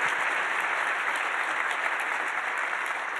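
A lecture-hall audience applauds steadily in a dense, even wash of clapping that holds at a constant level throughout, with no voices standing out.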